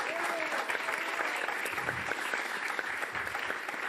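A French television game-show studio audience breaks into dense, sustained clapping that stays loud and even for a few seconds, with scattered crowd noise mixed in.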